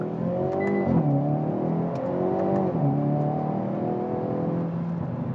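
Hyundai Veloster N driving on an open road, its engine revving up and down in rising and falling sweeps, with a steady droning note and continuous road and wind noise, no talking.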